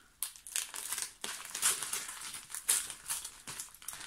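Sticky tape is peeled off a package, with bursts of crinkling and crumpling close by, irregular and fairly quiet, with short pauses between pulls.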